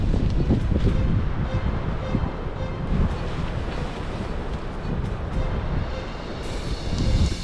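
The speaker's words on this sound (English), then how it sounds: "The wind's picking up from that direction and there's nowhere that's going to be even close to protect tonight." Strong wind gusts across an open desert campsite, a loud, rough roar with buffeting on the microphone that rises and falls without a break and has no talk over it.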